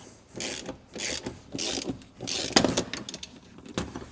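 A bearing puller at work on a Mercedes E55 AMG, giving a series of rhythmic ratcheting, mechanical clicks and grinding strokes, close and fairly loud with no talk.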